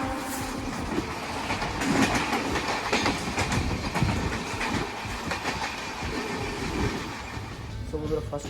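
The Kulik Express from Howrah to Pakur runs on rails at speed, a steady loud rumble with rhythmic wheel clatter heard from inside the carriage, continuous throughout with some faint talk beneath.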